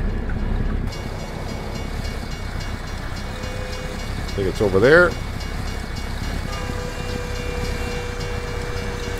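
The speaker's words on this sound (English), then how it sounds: "Where's the train?" A train rumbles past in American Truck Simulator with a steady mechanical drone, and a brief horn-like swell rises midway. Someone speaks briefly over it.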